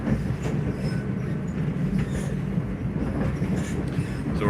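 A passenger train running between Loznica and Belgrade in Serbia, heard from inside the carriage as a steady, loud low rumble with faint clickety-clack of the wheels throughout.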